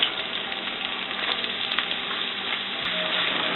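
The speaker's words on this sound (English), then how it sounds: "as soon as those cumin seeds start to splatter a little bit in there, you're going to add your onions" Cumin seeds and onions frying in a pan give off a steady, dense sizzling hiss, close and continuous throughout with faint crackles and no breaks.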